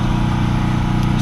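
Front wheel of a 2005 Dodge Magnum spinning freely after a hub bearing replacement, giving a steady, even, close mechanical whir with a constant low hum throughout.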